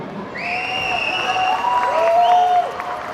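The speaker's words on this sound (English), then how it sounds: "So please give a big applause for my team." An audience applauds a team, clapping running steadily underneath while loud whistle-like tones or feedback sweep across the top.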